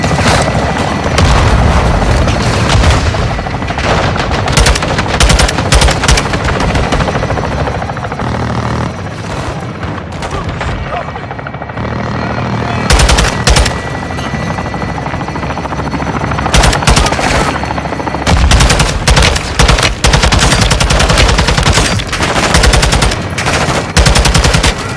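Air support fire in the Modern Warfare II video game: a helicopter drones throughout while long machine-gun bursts and heavy booms pound close and loud, with brief lulls between barrages.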